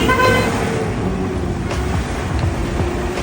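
A Hyundai Porter or Kia Bongo delivery truck with its engine running steadily nearby, under road traffic noise, with a short horn toot at the start.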